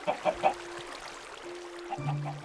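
Minecraft chickens clucking in short game-style bursts, a few soft clucks early and again near the end, fairly quiet with no talk over them.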